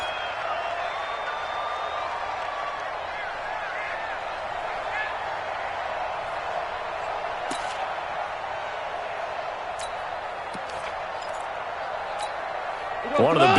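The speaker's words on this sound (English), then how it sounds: "the crowd getting into it as we come up on a big 3rd down" A virtual stadium crowd in the Madden 20 American football video game keeps up a steady roar of cheering that stays fairly even before swelling louder at the very end as play builds toward a big third down.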